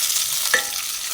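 Tomatoes fry and get stirred in a pan while pepper chicken gravy cooks, giving a steady broadband sizzle with one brief scrape of the spoon about halfway through, close and alone with no voices.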